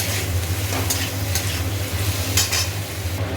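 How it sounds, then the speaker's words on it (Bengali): Ginger, salt and tomato sauté with spices in a hot pan, giving a steady close sizzle and fry with occasional stirring scrapes, no talking. "এবার এটাকে ভালো করে কষাবো"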